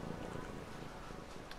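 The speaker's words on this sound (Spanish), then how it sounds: "Ronronea." A petted cat in the video game Brothers: a Tale of Two Sons purrs in a soft, continuous, low rumble, close and steady against a faint ambient background.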